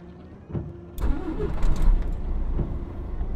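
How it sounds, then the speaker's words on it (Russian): A Kamaz 5490 NEO truck engine starts in Euro Truck Simulator 2, with a brief starter crank that catches into a low, steady diesel idle and holds close and even to the end. "Так, запустили моторчик."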